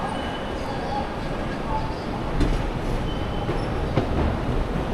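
Seoul's airport railroad train rumbles steadily with a broad low roar and faint rail clatter, an even interior ride sound with a few brief clanks.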